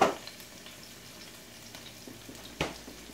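Minced garlic sizzles in a pan for Hawaiian chicken and pineapple fried rice, a faint, steady frying hiss heard close by, with a couple of soft stirring clicks.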